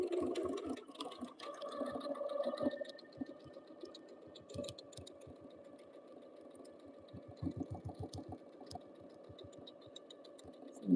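A sewing machine stitches through a quilt's bulky seam allowance in close, uneven bursts of rapid needle thumps, pausing and restarting, with a distinct knock as it rides over the thicker layers.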